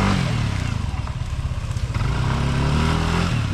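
Motorcycle engine running steadily close by on a slippery road, a low continuous drone with clattering texture and slight revving throughout.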